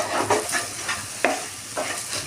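Chili powder, cumin powder and coriander powder are stirred into hot oil in a pan for a goat meat curry, with a steady frying sizzle and several distinct scraping strokes of the spoon, close and fairly loud.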